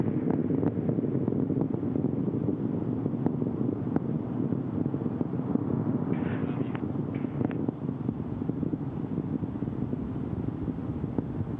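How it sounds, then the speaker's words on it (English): Space Shuttle Atlantis on mission STS-132, its three main engines back at full throttle after liftoff, gives a steady, loud, continuous broadband roar that holds for the whole stretch with no voices over it. "All 3 engines looking really good, back at full throttle now at liftoff."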